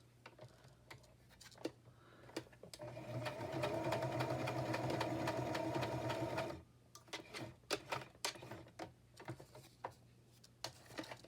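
A sewing machine runs a small zigzag stitch in blue thread, a steady mechanical whir lasting a few seconds, with light clicks and handling before and after.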